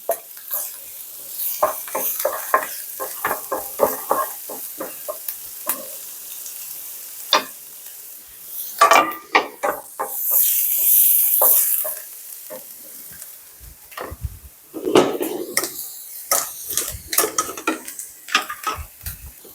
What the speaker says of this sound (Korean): 새우 넣어가 볶아줍니다.